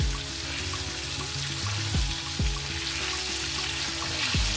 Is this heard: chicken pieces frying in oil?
yes